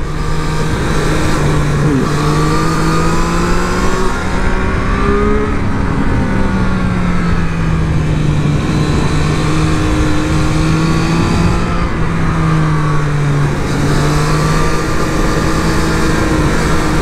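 A 2024 Triumph Street Triple 765RS motorcycle engine revs loudly and up close, with a rising and falling tone as it runs through the gears and climbs, alongside steady wind rush.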